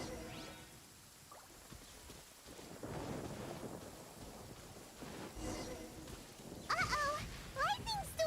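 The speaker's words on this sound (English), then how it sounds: "Uh-oh! Lightning storm!" Thunderstorm in the video game Genshin Impact: rain hiss and low rolling thunder rumbles under a faint wind, quiet overall, with speech arriving near the end.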